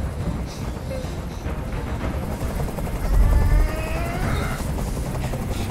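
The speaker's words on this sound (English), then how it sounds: "Tell that helicopter to get out of here." A helicopter hovers in the video game Detroit: Become Human, its steady rotor drone rumbling low and constant, with a brief louder swell midway.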